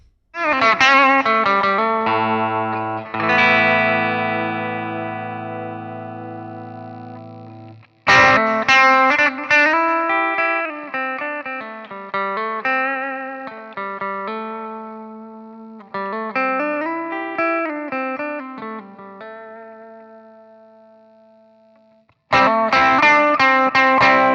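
Electric guitar through a Fender Mustang Micro Plus with P90 pickup and Klon-style overdrive plays sustained chords and arpeggiated phrases, notes ringing out with delay and spacious hall reverb tails between strums.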